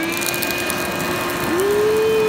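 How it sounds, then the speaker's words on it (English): A vacuum cleaner blows air into the charcoal of an outdoor bush forge on a frozen lake, making a steady loud whirring drone whose pitch rises partway through. "see how wild this gets with this vacuum going"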